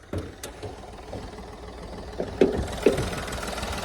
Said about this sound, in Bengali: ইঞ্জিন পূৰা ষ্টাৰ্টত আছে